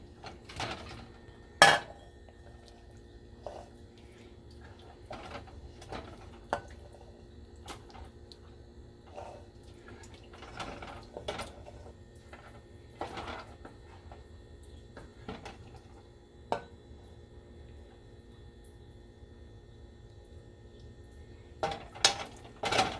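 Chicken korma is served out onto a dish with a metal spoon, giving sparse clinks and scrapes of cutlery against pots and plates, spaced irregularly over a quiet kitchen background, with a couple of sharper knocks.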